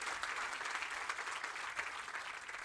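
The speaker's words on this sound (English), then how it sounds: "let us give us a hand of applause" An audience applauds a hospital radon team at a milestone celebration, a steady, dense wash of many hands clapping, fairly distant and even throughout.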